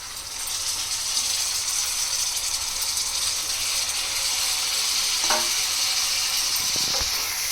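Chopped tomato pieces drop into a pan of frying ginger-garlic paste, giving a steady, loud sizzle with a few soft clinks and scrapes near the end, with no talking.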